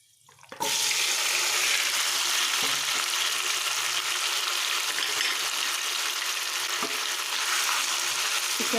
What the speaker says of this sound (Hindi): एबे आमे मैरिनेट चिकन को दे दबा।